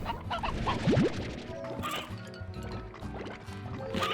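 Chickens in Slime Rancher, a few short cartoonish clucks and squawks mixed with wet slimy splats and bouncy game effects, close and busy under a continuous background bed, with no talking.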